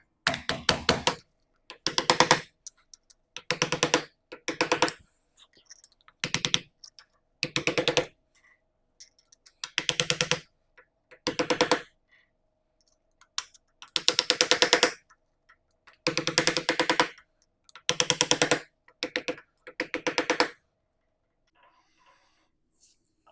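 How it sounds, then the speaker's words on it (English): Metal lock tabs on a Classic Mini gearbox differential are knocked back with sharp tapping strikes, coming in rapid bursts of hits separated by short pauses, close and fairly loud, with no talking. "knock all of our lock tabs back out of the way"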